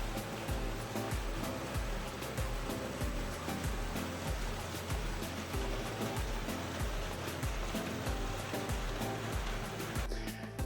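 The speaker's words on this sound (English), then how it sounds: "Flow being the primary pump that's actually going to run the water through the system" The primary pump of an erosion function apparatus drives water through the system for soil sample testing. It gives a continuous, loud, even whooshing rush with a steady pulsing low throb, close by and alone, without talk.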